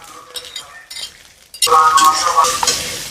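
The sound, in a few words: frying onion with cumin paste in a pan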